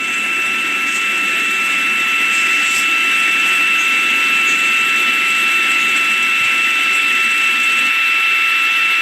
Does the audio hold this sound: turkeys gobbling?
no